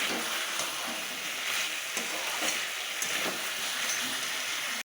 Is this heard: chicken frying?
yes